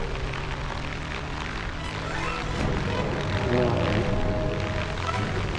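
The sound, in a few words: propeller airplane engine in War Thunder Mobile video game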